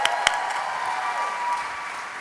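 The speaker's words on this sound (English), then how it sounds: "Round of applause." An audience at a conference announcement event breaks into a round of applause, dense steady clapping heard at moderate distance for a couple of seconds.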